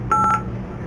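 A single short telephone keypad tone beeps clearly as a number is dialed, brief and close against a quiet room hum.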